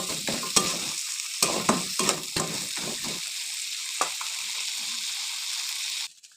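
Large pieces of prawn fry in a pan, giving a constant sizzle with several sharp scrapes and stirring knocks early on, then a steady hiss that cuts off abruptly near the end.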